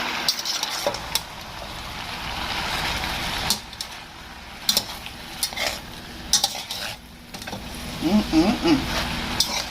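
Broccoli and cauliflower tipped into a beef stir-fry, a steady sizzle in the pan broken by scattered clinks and scrapes of a utensil stirring, with a voice speaking briefly near the end.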